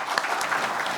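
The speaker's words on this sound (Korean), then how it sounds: "이신화 북한인권국제협력대사님을 큰 박수로 맞이해 주시기 바랍니다" An audience claps to welcome Lee Shin-hwa, Ambassador for International Cooperation on North Korean Human Rights, at a policy forum of the Committee for the Five Northern Korean Provinces, a short burst of steady, dense applause filling the room.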